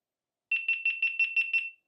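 A GoPro action camera powering off: seven rapid, evenly spaced electronic beeps at the same high pitch, crisp and close, then silence.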